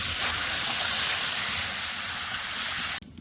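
Water pours into a hot kadai of lightly fried rice and lentils for khichuri, making a loud, steady rushing hiss that lasts about three seconds and then cuts off abruptly, close by with no talk.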